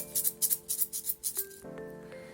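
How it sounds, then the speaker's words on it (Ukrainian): Homemade percussion shaker filled with millet, shaken in a quick rhythmic series of about ten soft, hissy swishes, then a faint ringing tone at the end. "У цьому ударному інструменті у нас пшоно."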